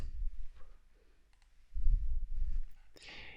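A few soft computer mouse clicks, close and faint, set apart in short quiet gaps, with a brighter crisp click near the end.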